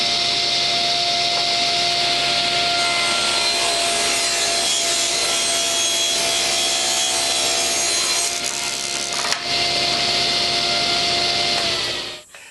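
A table saw rips through wood with a loud, close, continuous whining buzz and a rough cutting rasp, then the noise drops away abruptly at the end; no speech.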